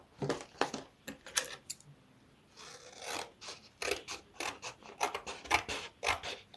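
Scissors snip through paper for a journal craft project, a run of crisp, close cuts in quick uneven rhythm with a short pause midway, quiet and alone without talk.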